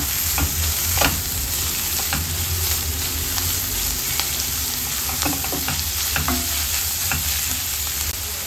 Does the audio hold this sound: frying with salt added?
yes